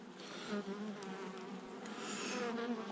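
A soft, continuous buzzing hum of many honeybees at a hive, fairly faint and steady, like a busy colony heard from nearby.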